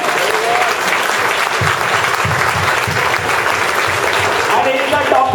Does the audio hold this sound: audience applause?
yes